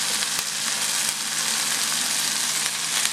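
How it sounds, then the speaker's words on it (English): Onions frying in a pan, browning with a steady, close sizzle and crackle throughout, with a few brief stirring ticks and no talk. "Now the onions are getting a little bit brownish"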